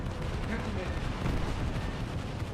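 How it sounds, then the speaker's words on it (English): Heavy 500-pound bomb blasts in a video game boat battle boom in a dense, rumbling barrage, deep thuds rolling over one another with little pause. "Are those 500-pound bombs?"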